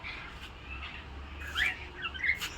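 Cockatiels at a Mysore zoo give a few faint chirps, then several clearer squawking calls near the end, over a quiet background hum.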